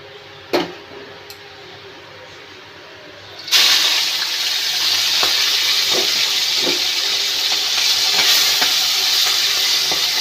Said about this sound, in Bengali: চিংড়ি মাছটাকে আমি খুব কড়া করে ভাজবো না, মিডিয়াম ভাজবো